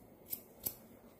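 Scissors cut a lock of hair during a haircut with two crisp, quiet snips about a third of a second apart, close by, no talk.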